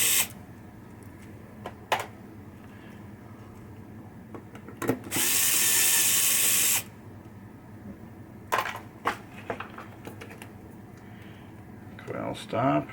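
A power screwdriver whirs steadily for about two seconds, loosening coil stops on a 1976 Bally Old Chicago pinball machine during a bonus unit rebuild. Scattered clicks and taps of metal parts come before and after it.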